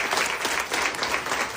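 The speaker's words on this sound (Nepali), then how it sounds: "एकचोटि जोरदारले ताली बजाउँ।" A church congregation applauds loudly and continuously, a dense, even wash of clapping filling the whole stretch at steady volume.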